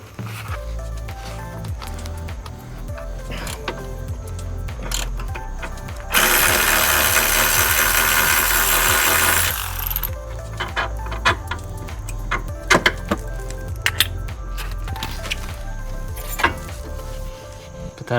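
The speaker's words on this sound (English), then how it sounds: "So what we're gonna do is remove the control arms here." Close mechanical work on the control arms of a BMW E82 135i during subframe removal, with a loud burst of air-tool or power-tool whirring partway through and scattered metallic clicks and clinks around it.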